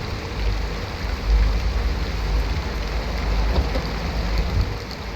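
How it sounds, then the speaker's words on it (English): Steady rain pours down in the driving survival game Pacific Drive, a dense, continuous hiss with low rumbling underneath, swelling slightly in loudness partway through, with no voices. "I'm already getting rained on."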